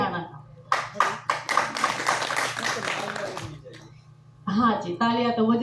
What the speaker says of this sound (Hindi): तालियां तो बजनी चाहिए